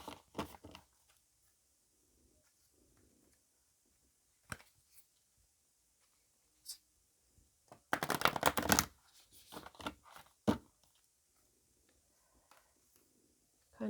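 Tarot cards drawn and shuffled from a deck during a Virgo reading with a Kali-themed deck: quiet intermittent card flicks and taps, then a dense burst of shuffling and snapping near the middle, with sparse rustles after.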